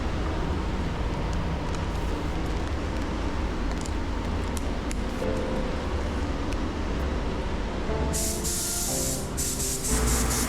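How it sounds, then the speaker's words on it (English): A spray gun lays pearl white base coat onto a Lexus RX350 bumper at 24 psi, giving a steady, loud hiss throughout that grows brighter and stronger in the final seconds, with no talk. "I'm gonna be spraying the base at 24 psi"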